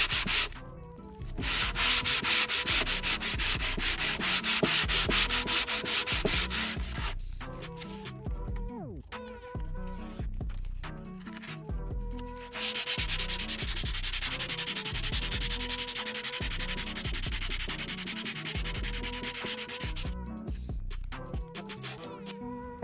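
Dresser drawers worked over with 60 grit sandpaper, a steady rasping scrub that runs nearly the whole time with short pauses and shifts in stroke, close and loud.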